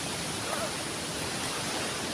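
Ranthi waterfall pours with a steady, close, full-bodied roar of rushing water, constant and unbroken throughout.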